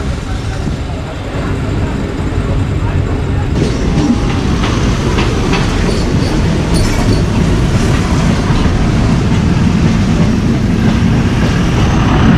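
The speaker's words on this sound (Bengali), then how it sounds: "বলতে বলতে ট্রেন আমাদের এখন ফারাক্কা ব্যারাজের উপর দিয়ে ক্রসিং করছে।" Onboard the 13466 Intercity Express crossing the Farakka Barrage, a loud continuous rumble of rolling wheels with rhythmic clicking over rail joints, steady throughout with a faint voice briefly under it.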